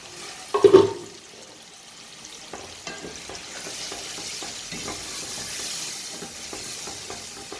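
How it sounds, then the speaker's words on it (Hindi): Peas frying with roasted masala in a pan, a soft continuous sizzle after an initial clatter as they are added and stirred, close and without talk. "2-3 मिनट मटर भून लेंगे"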